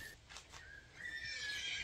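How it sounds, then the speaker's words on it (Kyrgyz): A one-year-old dark bay Kyrgyz horse foal gives a thin, wavering neigh, close and fairly loud, with short whinny bursts rising over light outdoor background noise. "Ушул 1 жаштагы карайгер тай чыгат."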